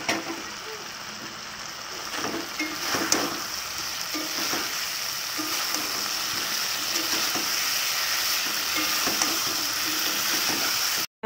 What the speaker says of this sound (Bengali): আমি আলুর দমটা বানিয়ে নিচ্ছি